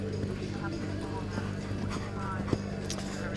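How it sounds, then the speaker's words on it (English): A horse trots at an Easter equestrian festival, with steady rhythmic hoof clip-clops heard under a continuous low hum and the voice of a commentator talking over them. "This is such a classy looking horse."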